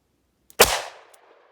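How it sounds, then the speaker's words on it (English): A single loud, sharp report from a Cor-Bon 125-grain .38 Special +P round fired into ballistic gel, cracking close and decaying over about a second with a faint echo tail. "Shooting from the same distance, this is the 38 Special."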